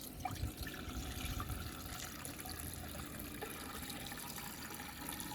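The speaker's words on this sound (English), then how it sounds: "So we're gonna add our water and add our ice and voila." Water runs steadily from a tap into a container for lemonade, a continuous splashing flow that stays even from start to finish.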